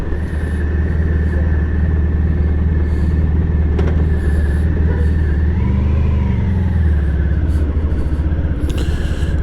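A 1994 Honda ST1100 motorcycle engine hums steadily and loudly while riding, with a deep continuous rumble, wind noise and a brief rise in engine pitch near the middle.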